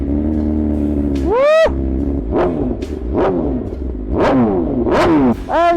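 A BMW S1000RR sport motorcycle revs hard up close, with a series of sharp rising-and-falling engine sweeps, one big howling rev followed by several quicker blips over a loud idle.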